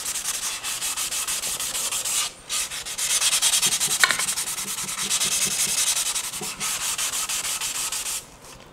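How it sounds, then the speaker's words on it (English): Steady back-and-forth rasping of 600 grit sandpaper smoothing scratches on a hydrofoil, a continuous close scrubbing rhythm with brief pauses, no voices. "I'm going to sand out some of these scratches while I'm at it with the 600"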